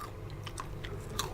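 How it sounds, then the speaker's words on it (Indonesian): Crunchy banana chips being chewed, with a few sharp crisp bites and crunches over a short stretch, fairly close and moderately loud, with no talking. "renyah sekali. Jadi pas kita makan ini,"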